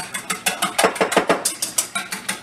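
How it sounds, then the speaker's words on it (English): Egg and milk being whisked together in a bowl, a quick, steady run of about fifteen close, bright clinking strokes, each a short metallic tick of whisk against bowl, alone without talk. "Put our egg and milk in 1 bowl. And we're going to whisk this together."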